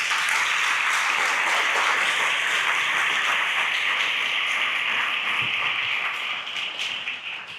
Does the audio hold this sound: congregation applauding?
yes